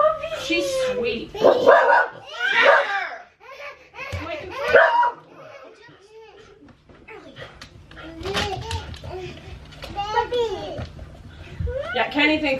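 A puppy yips and barks in short bursts indoors, mixed with close, excited human voices and baby-talk that overlap the dog's sounds.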